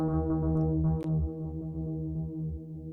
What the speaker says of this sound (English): a simple waveform coming out of the primary oscillator of the voltage lab,